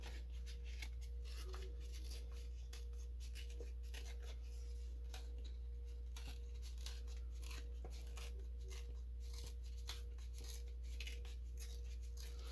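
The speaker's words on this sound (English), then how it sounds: "So I'm going to just tear the edges because I do like the look of torn edges." Paper edges are torn by hand for a journal page, a series of short, crisp ripping strokes repeated close to the listener over a steady low hum, with no talking.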